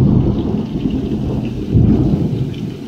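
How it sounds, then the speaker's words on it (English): A heavy thunderstorm rages outside, with a dense, steady roar of rain and low rumbling thunder that swells briefly midway, loud and continuous with no voices. "It's freaking storming outside real bad."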